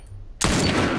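Gunfire in The Last of Us: after a quiet moment, a sudden loud, close burst of shots erupts and holds as a dense rattle until the end, with no talk.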